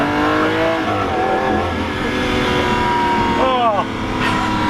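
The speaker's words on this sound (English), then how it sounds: "Car number 2, which is a 1995 Honda Civic EX VTEC." A 1995 Honda Civic EX VTEC with a 1.6 engine, revving loudly and close, its pitch climbing and falling in sweeping tones while people talk over the engine.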